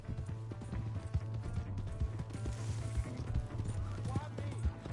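Horse hooves galloping in the video game Red Dead Redemption 2, a steady clip-clop rhythm amid dense game sounds with voices in the mix.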